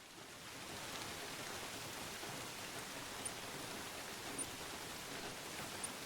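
Steady rain falling in the hunting game theHunter: Call of the Wild, an even, unbroken hiss of raindrops that holds at a constant level throughout with no voices.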